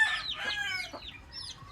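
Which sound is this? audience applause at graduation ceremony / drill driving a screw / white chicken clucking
white chicken clucking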